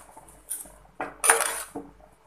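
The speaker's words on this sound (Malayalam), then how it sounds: "ഇനി നമുക്ക് ഈ അരപ്പ് ഈ പയറിലേക്കൊന്ന് മിക്സ് ചെയ്തെടുക്കാം." A spoon stirs coconut paste into green gram in a pan for cherupayar thoran, making a few brief, close metallic clinks and scrapes separated by quiet gaps, with no talking.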